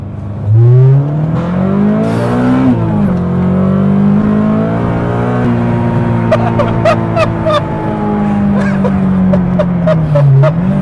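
A Nissan Micra built for speed revs hard in second gear toward 3000 rpm, its engine note climbing and falling in loud, close, continuous surges with no voices over it.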